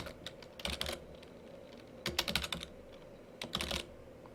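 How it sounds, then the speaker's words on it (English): Keys on a computer keyboard are tapped in three short bursts of quick clicks separated by pauses, close and fairly quiet against a low background hum. "I want you to type in your name."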